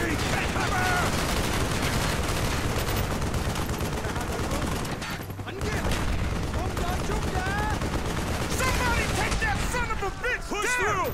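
Sustained machine gun fire in the Call of Duty: Black Ops campaign, loud and dense through the whole stretch alongside explosions and battle noise, with soldiers shouting over the gunfire.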